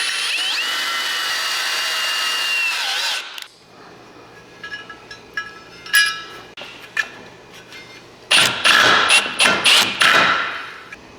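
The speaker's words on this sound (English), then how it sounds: "Instead of the rivets, I'm using self-tapping screws." Self-tapping screws driven into the body of a Datsun 520 truck during a rebuild: a steady power-tool whir, then short bursts of drilling with clanks and thuds, loud and close.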